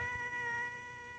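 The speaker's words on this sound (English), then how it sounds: "Got a cat in the fence." A cat meows outdoors by a fence, one drawn-out, tonal caterwaul lasting about a second, moderately close and heard alone against faint background hum.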